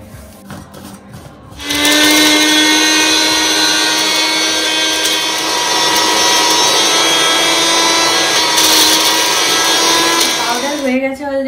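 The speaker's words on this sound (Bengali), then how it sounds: "জিনিসগুলোকে এবার মিক্সির মধ্যে দিতে হবে, দিয়ে এটাকে একটা মানে পেস্ট মতো তৈরি করতে হবে" Mixer grinder whirring loudly and steadily as it grinds spices into powder, starting abruptly after a short stretch of quieter sound and running with a harsh motor whine, a voice talking faintly underneath.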